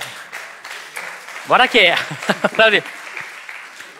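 Sparse, thin applause from a small audience, a few scattered claps pattering faintly throughout, with a voice speaking over the middle of it.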